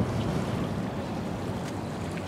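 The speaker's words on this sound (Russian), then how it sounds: "Вот она, река Мзымта." Steady broadband rush of the Mzymta river flowing beneath a pedestrian footbridge near the sea in Sochi, a continuous moderate wash with no talk.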